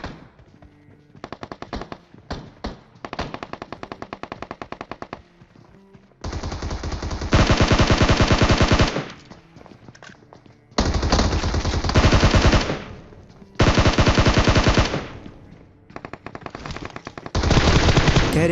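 Automatic gunfire rings out in a PUBG-style battle royale shooter, with repeated loud bursts of rapid machine-gun fire separated by short pauses and quieter stretches of shooting.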